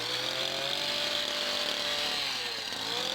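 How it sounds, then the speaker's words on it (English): A Stihl HS82 hedge trimmer cutting through an overgrown hedge, a steady high-pitched buzzing engine whine held close and loud without a break. "So here I'm using the Stihl HS82."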